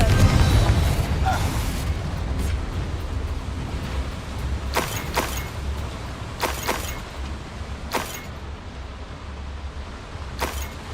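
A Confringo fire spell goes off in Hogwarts Legacy, a deep booming blast followed by several sharp bright cracks and impacts against a low rumbling game backdrop.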